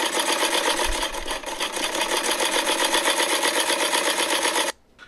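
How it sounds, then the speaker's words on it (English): A sewing machine stitches a costume together, running in a fast, steady mechanical whir for several seconds before stopping abruptly. "then it was straight to the sewing machine to sew the costume together."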